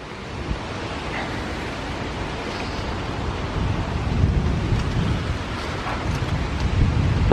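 Heavy rain pours steadily during a thunderstorm with damaging winds, a dense, constant roar close by that builds slightly louder toward the end, with no voices.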